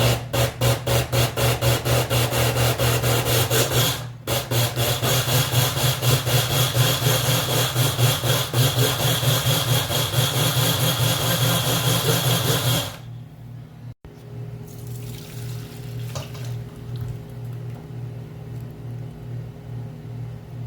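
Blender briefly chopping soaked rice with water for pumpkin porridge, a loud steady whirring grind for about thirteen seconds that then cuts off, leaving a quiet low hum.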